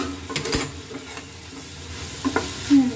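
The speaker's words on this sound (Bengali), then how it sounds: "এটা ফ্রাই হচ্ছে" Vegetables for chicken chow mein fry in a pan with a soft, uneven sizzle, broken by a few stirring clatters and scrapes at moderate loudness.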